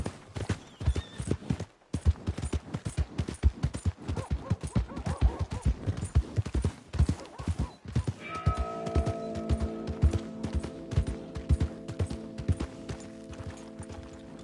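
Hooves clip-clop in a fast, steady rhythm as a horse is ridden in a video game, loud and close throughout, with a sustained musical tone entering partway and continuing under the hoofbeats.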